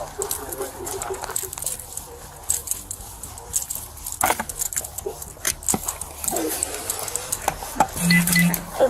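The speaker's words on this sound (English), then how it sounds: "Can I give you her keys?" A bunch of keys jangles and rattles in irregular metallic bursts throughout, close and fairly clear, with faint background voices.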